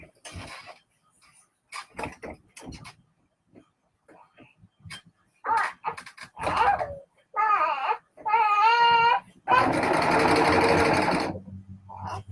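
A serger sewing machine stitches fabric in a brief, dense whirring burst near the end, after a stretch of a baby whimpering and crying nearby.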